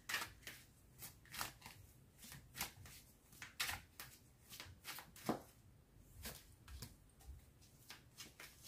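Tarot cards are shuffled over and over for a final draw, giving a quick, regular run of soft papery flicks and taps, close and fairly quiet, with no talking.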